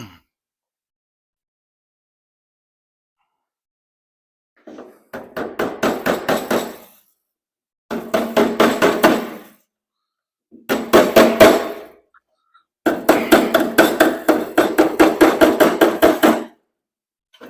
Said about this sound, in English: Knock that old rust bump down. Where's a hammer?